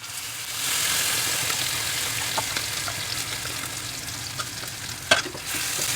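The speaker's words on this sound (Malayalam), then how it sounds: "നമ്മൾ നേരത്തെ അരച്ച് വെച്ച കൂട്ട് ഈ ബട്ടറിലേക്ക് ഇടാൻ പോവാണ് കേട്ടോ" Steady sizzling of a ground spice paste frying in melted butter in a pan, with a soft stirring scrape and a brief louder clink near the end.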